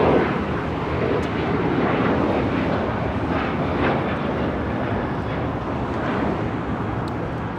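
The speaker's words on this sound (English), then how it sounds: "This is Alaska Airlines 1025 taking off to Everett Painfield on the 737-800." An Alaska Airlines Boeing 737-800 takes off from LAX bound for Everett Paine Field, a loud, continuous broadband jet roar that holds steady for several seconds with no talk.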